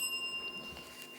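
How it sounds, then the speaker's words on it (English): A quiz show timer bell rings during a high school quiz competition, giving a bright sustained metallic tone that slowly decays over about a second, fairly close and heard alone. "And that's it. That's the bell."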